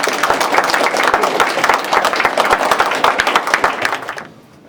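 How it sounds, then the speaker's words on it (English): Audience applause at a game design student organization talk: a room of people clap with distinct, fairly close hand claps that hold steady for about four seconds before quickly dying away. "A round of applause for Ian."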